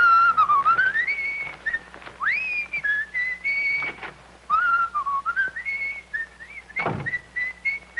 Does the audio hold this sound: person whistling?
yes